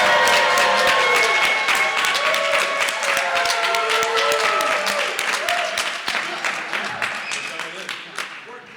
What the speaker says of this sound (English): We make the noise, yell, claps.